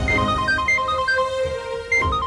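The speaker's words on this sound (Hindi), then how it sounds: "आलिया का फोन आ रहा है" A mobile phone rings with a repeating melodic ringtone, steady and moderately loud, playing over background music in a Hindi TV drama scene.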